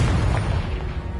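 The Confringo fire spell from Hogwarts Legacy bursts in a single loud, deep explosion that rumbles and fades over about a second.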